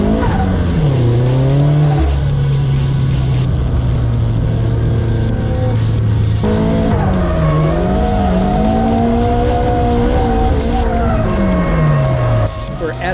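A car on Sailun Atrezzo SVA1 tires is thrown hard into a drift and spins out, its engine revving and wavering over loud, continuous tire squeal from start to finish.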